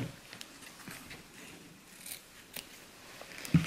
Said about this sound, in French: je vais le couper en biseau